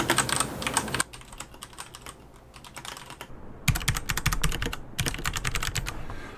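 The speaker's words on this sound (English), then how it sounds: "let's do a typing demonstration on this keyboard so you can hear what it would sound like" Close, rapid clacking of a mechanical keyboard being typed on, steady bursts of keystrokes with a brief slower stretch in the middle.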